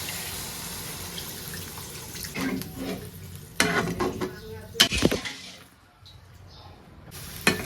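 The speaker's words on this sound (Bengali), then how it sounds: "আমি একটু জল দিয়ে দেবো" Water splashes and runs into a pot of sautéed potatoes in a village kitchen, coming in uneven gushes with brief clatters and a quieter pause partway through.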